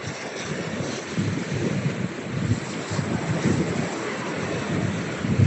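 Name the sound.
ocean waves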